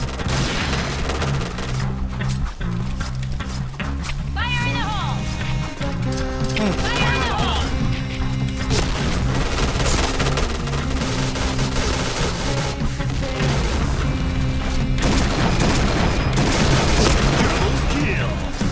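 Sustained video game gunfire, loud and continuous bursts with booming impacts, layered over music and effects, with someone talking at times.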